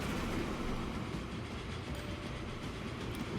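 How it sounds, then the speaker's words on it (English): Max-length freight train in Transport Fever 2 rolling steadily along the track, a continuous loud rumble with faint rhythmic clatter, no voices. "Pretty sure that this is a max length train"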